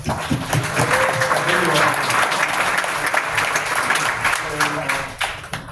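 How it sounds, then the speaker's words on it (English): Sustained audience applause at a tech demo night, a dense wash of many hands clapping in a room that holds steady for several seconds before tapering off near the end, with a voice heard briefly over it. "Let's give Jeff a round of applause."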